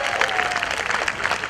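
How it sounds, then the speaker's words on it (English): A rally crowd applauds in a dense, continuous patter of clapping throughout, moderately loud and steady with no voices on top. "Yeah, applaud for that."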